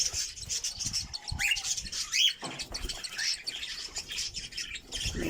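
Cockatiels at a bird farm squawk and chirp while feeding chicks, busy overlapping high calls and scratchy chatter at moderate volume, with light shuffling and patter beneath.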